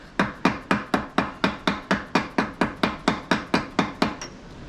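A transmission rear seal is driven into a Powerglide with a hammer striking a socket, giving about fifteen sharp, loud metallic whacks at a steady, even rhythm, close up with no talking.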